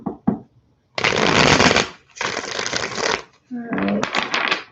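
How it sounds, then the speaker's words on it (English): Tarot cards are shuffled in bursts of crisp riffling and flicking, three loud close runs separated by short pauses, with a brief voice at the start. "let's do one more shuffle"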